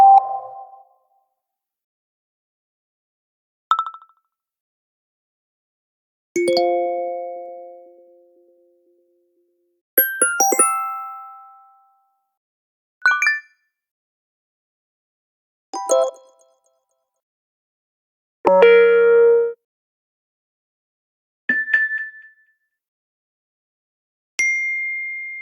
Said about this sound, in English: Now let's listen to the new alerts.